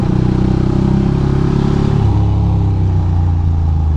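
A Ducati moped engine idles roughly, with water in one cylinder, on a Brooklyn street: a loud, close, uneven chugging with a lumpy, stuttering pulse that shifts pitch slightly midway and keeps running without a break.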